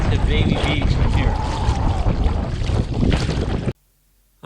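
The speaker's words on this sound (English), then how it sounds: "The wind, as you can tell, got really bad." Strong wind buffets the microphone while paddling an Old Town Big Water kayak on open water, a loud continuous rushing roar with splashing underneath that cuts off abruptly near the end.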